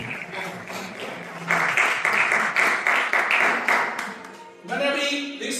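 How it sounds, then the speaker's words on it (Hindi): A church congregation claps in a loud, steady rhythm, many hands together in a reverberant hall, with a voice speaking over the final moments. "जोर से प्रवेश के लिए ताली बजाएं।"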